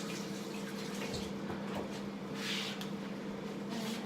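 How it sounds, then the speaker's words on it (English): A kitchen tap runs steadily while hands are washed, a continuous rushing splash close by with small shifts as the hands move under the water, with no talk. "Give my hands a quick wash."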